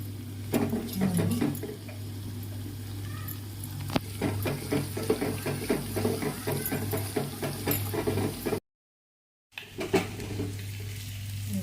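Bitter gourd fries in a pan with curry leaves, giving a steady close sizzle with scattered clinks and scrapes of stirring, broken by a short gap of silence near the end.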